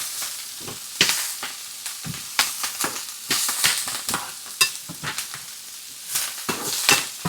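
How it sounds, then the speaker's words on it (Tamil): Onions sautéing in a pan, bright sizzling hiss broken by repeated bursts as the pieces are stirred and tossed, close and clear, with no talking. "வெங்காயம் குயிக்கா வதங்கணும்"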